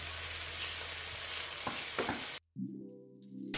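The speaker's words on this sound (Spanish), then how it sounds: "voy a añadir también los trocitos de carne picada y con la ayuda de la cuchara voy a ir desmenuzándolos bien" Minced meat sizzles loudly with onion in a hot pan for a keto recipe, a steady frying hiss with a few spoon scrapes as the meat is broken apart, then the sizzle drops out abruptly near the end.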